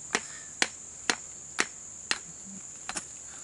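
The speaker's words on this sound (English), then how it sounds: "You really want to kind of like peck on the rock a little bit." Rock being pecked with a hammer while hunting for rocks outdoors: about seven sharp, separate knocks at uneven intervals, the last two close together, moderately near, with a steady high insect-like whine behind and no talk.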